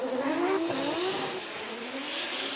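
Ken Gushi's drift race car at Formula Drift Japan 2024, diving hard into a corner: a loud engine revving and wavering in pitch, with a broad hiss of tire noise. The car sounds somewhat distant and no one speaks.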